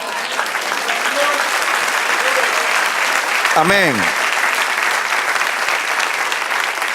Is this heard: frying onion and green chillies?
no